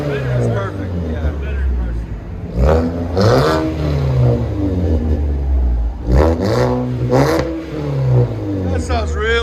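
A 2014 Ford Fusion SE with a 2.5L engine and its muffler removed revs in several throaty bursts that rise and fall over a loud, rumbling idle, with people talking between the revs.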